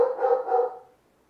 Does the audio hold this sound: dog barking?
yes